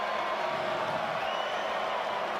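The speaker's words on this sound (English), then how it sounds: "Crowd on their feet at Jerry Richardson Stadium" Crowd on its feet at Jerry Richardson Stadium during a North Carolina at Charlotte college football game, a steady dense roar of cheering that holds without a break.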